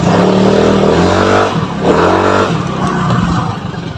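A scooter with an upgraded CVT and 16 g flyballs accelerates hard, its engine note rising loud and close in two successive revving pulls with no talk.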